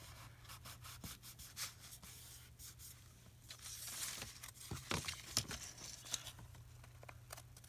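Scissors cut a paper pattern piece for a junk journal in a string of soft, quiet snips and rustles at close range.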